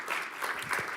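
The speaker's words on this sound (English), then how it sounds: "just give a big round of applause to the organizers" Conference audience at PyCon Balkan 2018 applauding the organizers, a brief burst of moderate clapping from a room of people.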